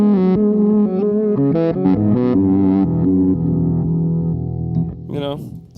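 Electric guitar played through a distortion boost pedal at a live club gig, loud and close: a quick run of sustained, saturated chords and notes ringing out, ending with a short higher squeal.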